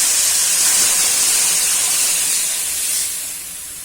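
A loud, steady hiss of batter poured into hot oil for a ripe-mango-kernel dish, close by, easing slightly toward the end.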